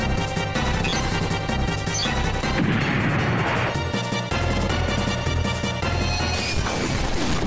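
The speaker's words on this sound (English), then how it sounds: "Hit him with a missile launcher." A missile launcher attack in the SNES game Front Mission: dense, loud crashing blasts over a continuous bed of game music, with sharp smashing hits and a brief break near the middle.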